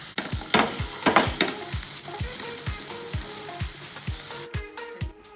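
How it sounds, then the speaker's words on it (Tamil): Raw banana pieces sizzle steadily as they are tossed and stir-fried in a hot pan for a banana Manchurian, with a spatula repeatedly scraping and knocking against the metal, close up and without speech. "வாழைக்காயை எடுத்து போட்டு பரட்டி விட்டுக்கோங்க"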